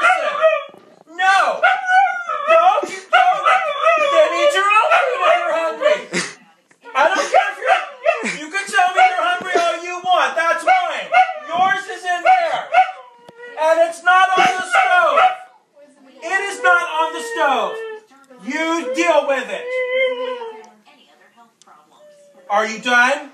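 Husky dog howling and yowling in long, expressive vocal phrases, close and loud, with short pauses between bursts as if answering back.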